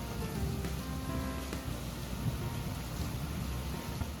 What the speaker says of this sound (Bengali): বাইরে কি ভীষণ বৃষ্টি হচ্ছে দেখেছো তার উপরে বিদ্যুৎও চমকাচ্ছে